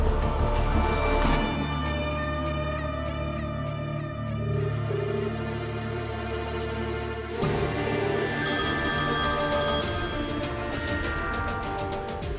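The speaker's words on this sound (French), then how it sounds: "décroche ce téléphone" A telephone rings amid a dramatic musical score, its tone layered under sustained swelling orchestral music that shifts partway through, with no one speaking.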